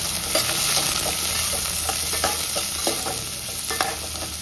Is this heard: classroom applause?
no